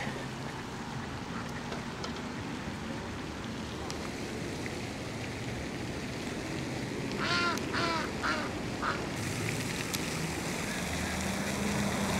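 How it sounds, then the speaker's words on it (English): A duck quacks at a city pond in a short burst of several calls partway through, standing out over steady outdoor background noise near the water. "That's a big duck."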